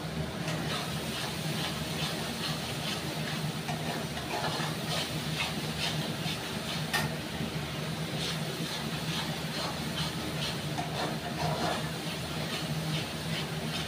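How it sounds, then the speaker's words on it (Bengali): Spice paste frying in oil in a pan while being cooked down, producing a continuous, even, moderately loud sizzling hiss that holds steady for the whole stretch, with faint scattered pops and no voices. "যতক্ষণ না মশলার থেকে তেলটা না বেরোচ্ছে বন্ধুরা, ততক্ষণ মশলাটাকে আমি ভালো করে কষিয়ে যাব"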